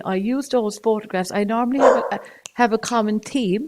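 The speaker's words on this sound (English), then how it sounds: "that's my dog barking in the background" A pet dog barks somewhere in the background of a home, its yaps mostly buried beneath someone speaking steadily up close.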